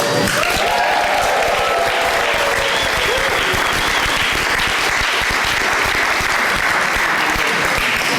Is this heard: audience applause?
yes